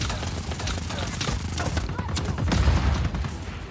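Bursts of gunfire and booming impacts in the action video game Just Cause 4, loud and continuous for a few seconds, with a voice talking over the fight.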